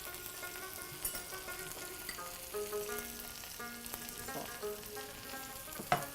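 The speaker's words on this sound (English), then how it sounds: "right now it's sautéed onions, brown onions, ginger garlic paste, and tomatoes" Brown onions, ginger garlic paste and tomatoes sauté in a pan, giving a quiet steady sizzle with faint occasional clinks and a sharper knock near the end.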